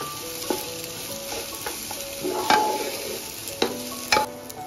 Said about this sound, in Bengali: এবার চাল এই মশলার সাথে খুব ভালো করে ভেজে নেব।